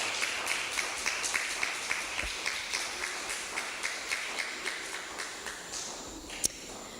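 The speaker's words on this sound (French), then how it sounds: "Vous pouvez l'applaudir." An audience claps in rhythmic unison at a special event for mothers, a steady train of evenly spaced, moderately loud beats, with one sharper knock standing out near the end.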